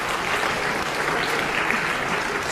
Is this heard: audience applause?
yes